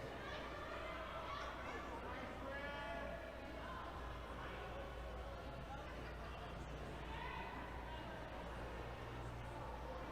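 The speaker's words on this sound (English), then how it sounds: "They have a goat." Repeated bleating rings out over a crowd's chatter at a roller derby match, several wavering cries in a row from a goat, clear above the steady hum of voices.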